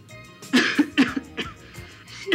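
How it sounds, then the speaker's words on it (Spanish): A woman just out of prison coughs in a series of close, harsh, uneven fits, with several loud bursts and throat sounds between them. "Pero ese tos con que saliste de la cárcel no me gusta para nada"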